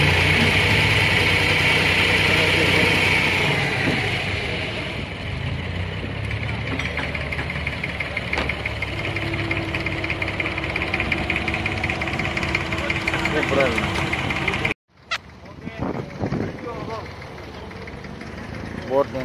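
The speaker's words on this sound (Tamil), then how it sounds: "இங்கே போட்டை பார்க்கிங் பண்ணுறாங்க" A boat engine idles steadily as the boat is parked at Bur Dubai, a low continuous rumble with voices talking over it, cutting off abruptly near the end before quieter background noise.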